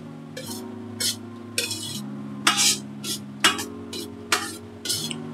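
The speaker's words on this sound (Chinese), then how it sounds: "一开始结咧就熄火，我哋再慢慢搅匀佢" Red bean cake mixture is slowly stirred in a pot with the heat switched off, giving repeated short scraping strokes at a steady, unhurried rhythm over soft background music.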